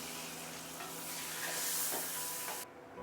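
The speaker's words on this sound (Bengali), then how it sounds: "হয়ে গেছে আমার পটল ভাজা, আমি এখানে তুলে নিচ্ছি।" Pointed gourd (potol) pieces sizzle in hot oil in a pan and are stirred and lifted out, a close steady frying hiss that cuts off abruptly near the end.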